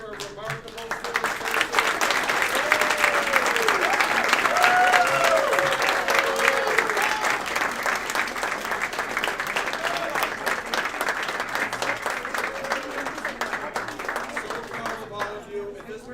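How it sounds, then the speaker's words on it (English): A crowd at a school board meeting applauds warmly for several seconds for a student, the clapping swelling and then holding steady, with a few cheers and voices mixed in. "How about a last applause for a remarkable student?"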